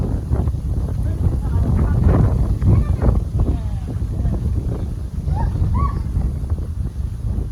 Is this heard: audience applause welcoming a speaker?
no